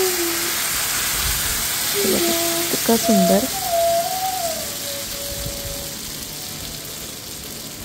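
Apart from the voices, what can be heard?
ghavan rice batter sizzling on hot griddle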